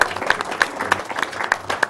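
Scattered audience applause at a live speedrunning charity event for Super The Empire Strikes Back on SNES, with distinct individual claps popping out at an uneven rhythm.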